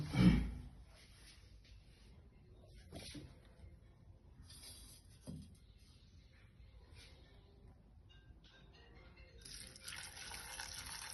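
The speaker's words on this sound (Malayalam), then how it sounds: "വെള്ളം നമ്മൾ ഒഴിച്ചു കൊടുക്കുകയാണ്" Water is poured into a cooker of soya chunks and oil, heard as faint splashes and brief trickles, then a steadier soft pouring hiss toward the end, all quiet and close.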